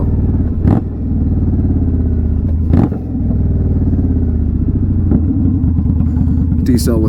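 Indian Scout Bobber motorcycle exhaust burbling and popping on deceleration as revs fall off, with a few sharp blips and crackles over a rough, loud drone.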